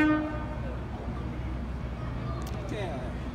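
Rumbling rail noise of a Sydney Trains charter train rolling into platform 2, with a brief horn-like tone at the start and squealing wheels, while a voice speaks faintly.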